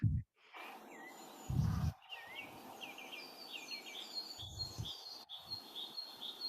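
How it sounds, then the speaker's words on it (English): Birds sing and chirp around a calm, mirror-still Scottish loch edged with trees: repeated bright tweets and short trills at moderate distance over soft outdoor ambience, broken by a few brief low thumps. "I'm just going to be quiet for a minute so you can listen to the bird song."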